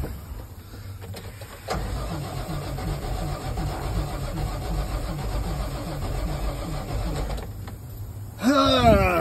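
A car engine, long unused, cranks and then catches after a spray of brake cleaner into the intake, turning over in a rough, rhythmic chug before briefly revving near the end.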